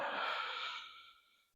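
A long, breathy exhale during a slow yoga flow between tabletop and child's pose, loud at first and gradually fading away over about a second and a half, heard alone without talk.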